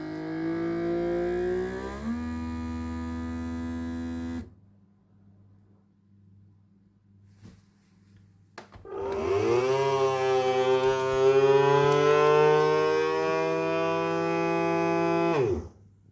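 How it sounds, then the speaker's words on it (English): A vacuum sealer sealing a cut-to-size bait bag runs with a loud droning motor hum, drops to quiet for a few seconds, then starts again with a rising, straining pump tone before cutting off abruptly; no talking. "So because I've cut the bag to size, it needs to be sealed. So literally press seal."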